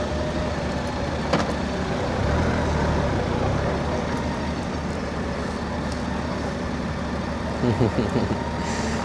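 Trucks and other vehicles queued at a Turkey border crossing make a steady, dense roar of idling engines and road noise throughout, with a few brief louder knocks and faint voices in the mix.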